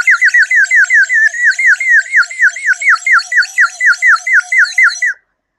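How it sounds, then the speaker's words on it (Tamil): Water-filled toy bird whistle blown close up, producing a loud, rapid warbling trill of repeated chirps for about five seconds before stopping abruptly. "இதில் ஆல்ரெடி வாட்டர் ஃபில் பண்ணியிருக்கேன். மிஸ், சூப்பராக சவுண்டு வருது மிஸ்."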